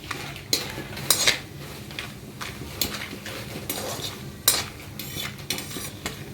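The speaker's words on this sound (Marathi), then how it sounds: "दालचिनी घालून घेऊया दालचिनी पण आपण परतून घेऊया" Cinnamon and spices roast in a little oil in a pan for Kolhapuri onion-garlic masala, with sharp metallic spoon scrapes and clanks against the pan over a soft sizzle, in irregular strokes.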